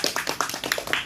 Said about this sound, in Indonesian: Tepuk tangan dahulu ya.